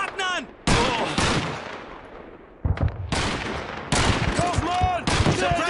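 Gunfire in Call of Duty 2 on a battlefield near sandbags, loud bursts of rifle and machine-gun fire in separate clusters with short gaps, voices shouting in between.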